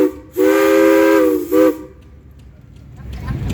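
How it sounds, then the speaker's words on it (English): An old Case steam tractor at a pumpkin run car show sounds its whistle: one long, loud, steady blast, then a second short blast, followed by quiet crowd ambience. "A steam tractor, which will signal the end of our telecast."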